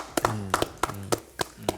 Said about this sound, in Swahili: Bana, makofi mengi tafadhali.